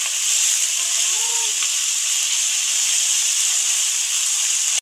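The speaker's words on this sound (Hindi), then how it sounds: "3 मिनट के लिए चिकन को फ्राई किया है" Chicken for chow mein fries in a pan, giving a steady, close, bright sizzling hiss that holds evenly throughout.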